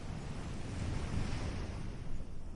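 Gentle ocean waves wash onto shore at evening in a steady, continuous surf with a soft wind-like hiss, moderately quiet and even throughout with no voices.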